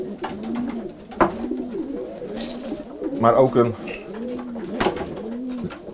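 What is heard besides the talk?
pigeons cooing in a loft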